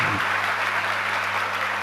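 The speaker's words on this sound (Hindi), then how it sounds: "खुल करके तालियां लग गई" A crowd at a Hindi religious discourse claps steadily and continuously throughout, a dense wash of applause with no voices standing out.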